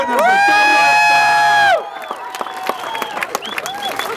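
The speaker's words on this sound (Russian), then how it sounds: "Это автоспорт, аплодисменты!" A crowd at a Gorilla Drift Energy 2018 drift awards ceremony: a loud sustained horn-like tone opens, then scattered clapping, whoops and shouts follow nearby at a lower, uneven level.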